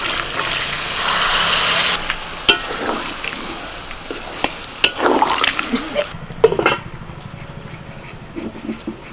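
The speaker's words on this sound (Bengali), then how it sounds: "এবার আমি একটু অল্প করে এর মধ্যে জল দিয়ে এই মশলার বাটিটা ধুয়ে একটু জল দিয়ে দিচ্ছি" Water splashed into sizzling chicken masala in a wok for bamboo biryani bursts into a loud hiss for about two seconds, then settles into quieter sizzling broken by scattered spoon scrapes and clanks against the metal.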